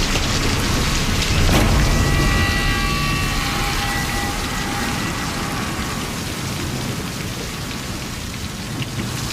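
Heavy rain pours down in a thunderstorm, a dense, loud, continuous hiss of drops with a low thunder boom early on, steady throughout and with no voices.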